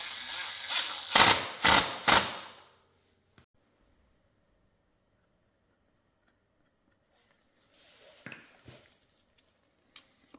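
A ratchet clicks in quick bursts while tightening a longer bolt with guide and washer on a swingarm protector of a 2024 KTM TBI Six Days motorcycle, close and crisp, followed by near silence and faint handling noises.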